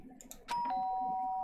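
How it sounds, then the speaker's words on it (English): A loud electronic doorbell in the Danganronpa: Trigger Happy Havoc video game sounds a sharp strike followed by a sustained ringing tone, heard over a soft musical background. "did I hear the doorbell?"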